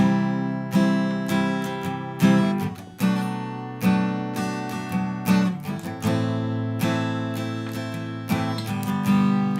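Strummed acoustic guitar chords ring out in a steady rhythm, with regular strokes and chord changes, played alone and close.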